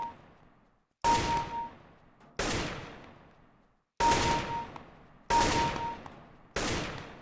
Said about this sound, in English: targets will pop up here, and I'll have to shoot them